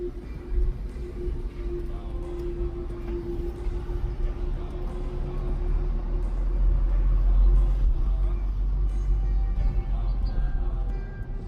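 A 2.0 TSI Volkswagen T-Roc 4Motion R-Line pulls away from inside the cabin, a steady low engine rumble that builds and swells over several seconds before easing slightly, with faint road noise and no talk.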